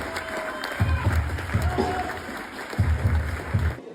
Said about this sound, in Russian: В этот вечер аплодисменты и браво не смолкали